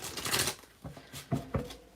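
Tarot cards being shuffled in the hands, several quick riffling bursts: a long papery flutter at the start, then shorter crisp snaps near the end, close up and alone.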